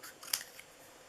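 A single quick snip of scissors trimming the paper edge of a St. Patrick's Day treat box, close and crisp, followed by a faint rustle in a quiet room.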